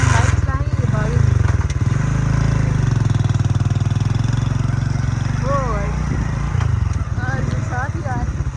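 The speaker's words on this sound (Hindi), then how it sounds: "अब हम बाइक चलाएंगे ये भागेगी।" A motorbike engine runs with a steady, loud mid-pitched drone as the bike sets off. Voices talk over it and brief chirping sounds appear now and then.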